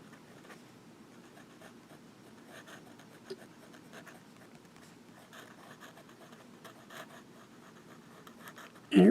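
A Pilot Prera fountain pen nib drags upside down across paper in reverse writing, making a faint, steady scratching with small strokes and a louder bump at the end.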